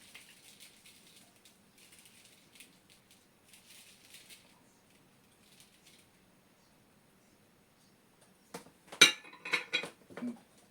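Cut potatoes, peppers and spices drop into a container, quiet light clinks and taps at first, then a louder cluster of close knocks and rattles near the end, with no voices.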